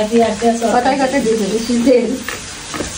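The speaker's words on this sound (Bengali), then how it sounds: "আর আম্মু ওদিকে ভাজি করতেছে।" A vegetable bhaji fries on a home stove, its sizzle and stirring running steadily beneath a voice that talks throughout.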